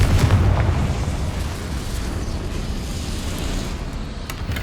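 A Confringo fire spell in Hogwarts Legacy detonates as a loud, rumbling explosion with a heavy boom at the start that settles into a sustained roaring burn, with no speech.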